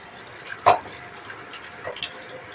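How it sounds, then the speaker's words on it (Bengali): Sliced bitter gourds are rinsed by hand in a kitchen, giving a short splash of water and a few soft drips and sloshes, fairly close and quiet. "উচ্ছেগুলো এবার ভালো করে ধুয়ে নিই।"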